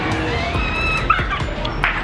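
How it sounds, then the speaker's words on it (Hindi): A dog makes short yips and whimpering noises near the listener, brief sharp calls spread across a couple of seconds over a background hum. "ये कुत्ता है"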